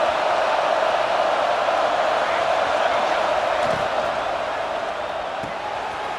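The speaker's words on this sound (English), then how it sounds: "this home crowd is fired up and ready to make a difference today" A home stadium crowd in the College Football 26 video game roars steadily throughout, a dense and loud continuous wash of cheering with no breaks.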